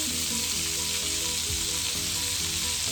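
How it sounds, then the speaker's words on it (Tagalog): Plenty of garlic sautés in three tablespoons of butter, giving a loud, dense, continuous sizzle with a faint low hum beneath and no voices. "I-saute natin ang garlic."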